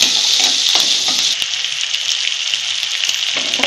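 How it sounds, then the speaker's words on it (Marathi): One medium chopped onion sautés in a pan, producing a loud, continuous hissing sizzle close by, with occasional soft stirring knocks and no talk. "कांदा कट केलाय मध्यम आकाराचा एक, तो टाकून घेतला. हे जरा परतून घ्यायचं 2 मिनिट"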